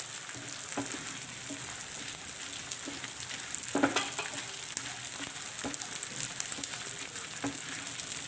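Gond (edible gum) frying and puffing in hot ghee for a winter gond atta halwa, a soft steady sizzle with scattered small pops and a few spoon clinks, faint and close, no talking.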